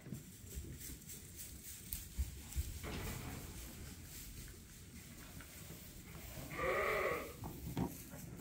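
Sheep in a farm barn bleat, with one clear, fairly close bleat standing out over a steady low barn murmur and shuffling, with no speech.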